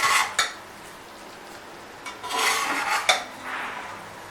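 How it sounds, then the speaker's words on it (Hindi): Zarda sweet rice gets mixed in a pot with a spoon, making a few close scraping and clinking strokes against the metal, quiet otherwise and without talk. "ये देखिए, इसको अच्छी तरह मिक्स कर लें।"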